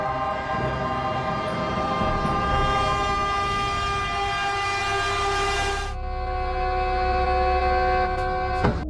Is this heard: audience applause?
no